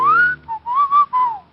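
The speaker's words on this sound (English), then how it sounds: "he changed it to a low whistle." A man gives a low whistle that glides upward, then breaks into a few wavering, swooping notes. It is clear and close, with no other sounds.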